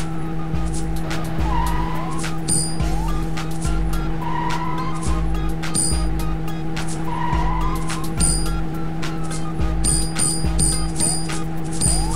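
A car in a kids' cartoon driving video game hums continuously while repeated tire squeals and skids cut in, with a few clicking mechanical effects over the steady engine tone.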